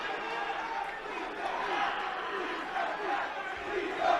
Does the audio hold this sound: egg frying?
no